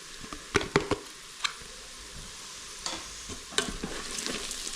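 Fenugreek and fennel seeds frying in a pan, a low crackling sizzle punctuated by a few sharp clattering stirs and taps, close and quiet, with no talking.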